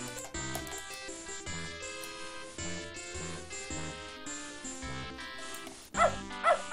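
A dog barks and yips in the point-and-click adventure game Beneath a Steel Sky, short repeated barks over quiet looping game music, with a few louder yelps near the end.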